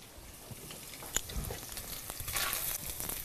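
Pancetta frying crispy in a pan, a soft, close sizzle with faint crackles and occasional stirring scrapes, steady and quiet with no talk.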